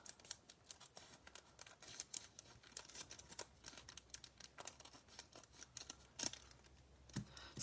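A package is cut open with scissors, giving faint, close snips and crisp rustles in an irregular run of small clicks, with no talking.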